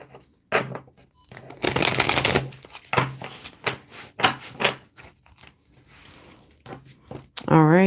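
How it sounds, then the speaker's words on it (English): Crisp riffling and snapping of cards being shuffled, in quick bursts with pauses, while a person talks intermittently over it. "I'm going to shuffle one more time."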